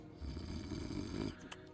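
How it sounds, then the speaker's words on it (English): A drunken character snores in the fantasy video game Tainted Grail: The Fall of Avalon, a single long rasping, rumbling inhale that stops abruptly, fairly quiet and heard alone. "Drunken snoring."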